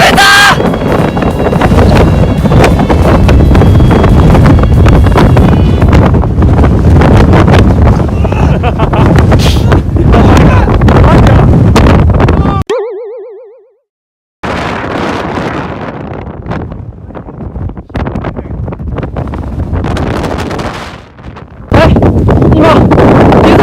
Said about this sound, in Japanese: 風が強すぎて死ぬかと思った。